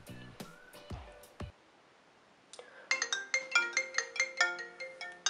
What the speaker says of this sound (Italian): E ora facciamo squillare il telefono.